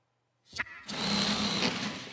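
A sewing machine in a garment factory starts after a brief knock and runs steadily at close range, a continuous mechanical whir with no talking.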